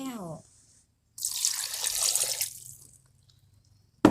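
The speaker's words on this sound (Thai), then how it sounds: "เราก็มาล้างยางของแครอทกับ ล้างขิงอีกทีหนึ่งค่ ะ" Carrots and ginger are rinsed under a running kitchen tap, a short splashing gush of water lasting about a second and a half, after a brief bit of speech and followed by near silence.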